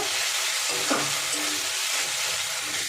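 Prawns sizzle in oil once their water has dried off, a steady close hiss with a couple of soft stirring scrapes.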